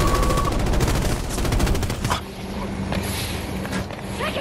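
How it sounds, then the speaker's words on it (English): Gunfire in the video game Battlefield 2042, a dense burst of rapid automatic shots that ends abruptly after about two seconds, leaving a vehicle rumble and a few scattered shots. "Taking fire! Left side!"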